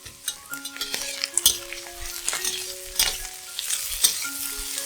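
Tomatoes and pickled mustard greens stir-fry in a wok, with steady sizzling broken by scraping spatula strokes and clinks of metal on the pan, close and lively.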